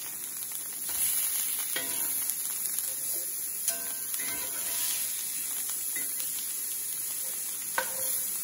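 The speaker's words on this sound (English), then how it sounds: "So we're gonna let that cook for 3 minutes on that side" Blackened mahi mahi fillets frying in a pan, a continuous close sizzle with intermittent sharp crackles and a few utensil clinks and scrapes.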